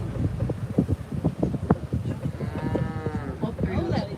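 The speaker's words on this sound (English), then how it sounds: "This guy was mooing just now." A large animal on Disney's Kilimanjaro Safari lets out a long, close, resonant moo, with wind buffeting the microphone and the clatter of the moving safari vehicle underneath.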